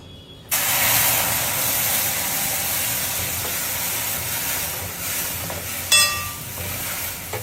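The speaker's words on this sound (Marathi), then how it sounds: "गरम केलेलं जरासं उकळलेलं दूध घालते" A steady, loud hiss fills the clip after a brief quiet start, with a short clink near the end, as hot, lightly boiled milk is poured into a pan with fried dry fruits.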